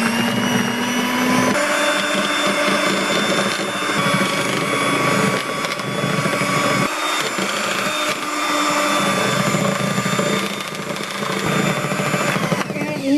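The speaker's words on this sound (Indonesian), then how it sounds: "ini langsung saya mixer sampai betul-betul mengembang." An electric mixer beating butter cream until fluffy for a sweet bread topping, a loud continuous motor whir that shifts slightly in pitch as it runs, with no talking.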